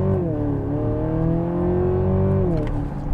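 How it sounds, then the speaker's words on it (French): The petrol engine of a 2024 Mercedes GLC Coupe 300e AMG Line plug-in hybrid kicks in and pulls with a steady, rising drone, close and loud, before the pitch eases off. "on a le moteur thermique qui s'active"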